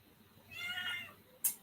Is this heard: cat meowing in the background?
yes